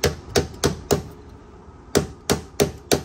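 Sharp metallic taps on a Club Car golf cart brake part, four quick strikes, a short pause, then four more, close and clear with no talking.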